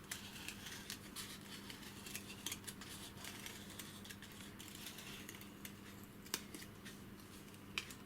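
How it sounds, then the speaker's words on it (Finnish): Scissors cut through hard cardboard in a run of faint, close snips and crunches, scattered unevenly over a quiet, steady room hum. "Ja sitten tästä lähdetään leikkaamaan tähän keskelle tähän."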